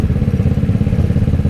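A Kawasaki ER6N motorcycle engine running loud and close, with a deep, rapidly pulsing rumble held steady through the short stretch and no voices.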